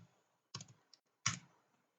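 Keystrokes on a keyboard come in two short clustered bursts separated by silence, crisp and close, with a faint tap between them and no voices.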